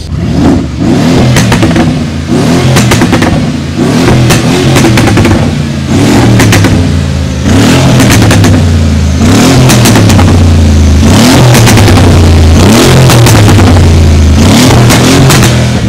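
A Mercedes G63 AMG SUV engine revs loudly and repeatedly, rising and falling in pitch, with crackling exhaust pops between pulls, close and continuous with no talking.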